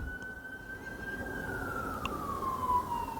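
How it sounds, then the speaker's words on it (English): An emergency vehicle siren wails outside, heard indoors as a steady, slowly falling tone at moderate distance over constant background hum, with no talking. "A lot of sirens around tonight."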